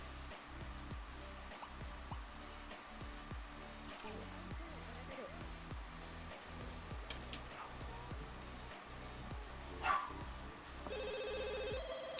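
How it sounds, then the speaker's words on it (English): A telephone ringing in The Sims 2, a repeating trill in regular bursts with short gaps, fairly quiet beneath light game ambience and a brief louder blip near the end. "Oh, the phone's ringing."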